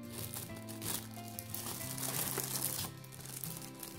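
A plastic parts bag from an AMMO of MIG 1/35 King Tiger model kit rustles and crinkles close by, a continuous dense crackle handled in the hands, with steady background music underneath.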